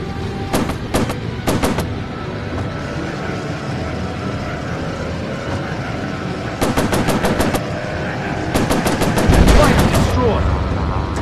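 Aircraft machine guns firing in the combat flight game Warplanes VR, short rapid bursts of several rounds each, separated by stretches of droning engine noise, loud and close.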